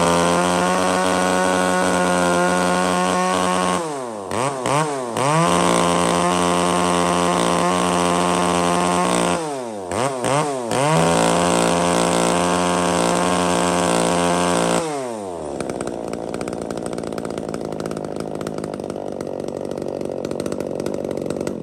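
A used Shindaiwa, Makita or Echo chainsaw engine runs loud and close, its steady high whine dipping twice with brief throttle drops, then shifting to a rougher, lower idle near the end.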